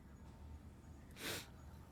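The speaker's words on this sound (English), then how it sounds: "I got the sniffles." One short, faint sniffle from a person with a runny nose, a quick breathy inhale set against quiet background hum.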